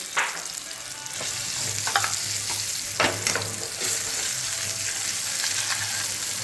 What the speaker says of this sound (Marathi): वाटण चांगलं भाजून घ्यायचं आहे